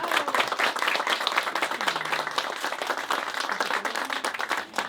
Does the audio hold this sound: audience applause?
yes